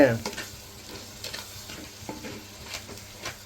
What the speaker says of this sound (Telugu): ఇప్పుడు ఇందులో పీతలు వేసేసుకున్నాం